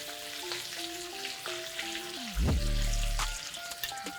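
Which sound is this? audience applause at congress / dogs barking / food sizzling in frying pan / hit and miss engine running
food sizzling in frying pan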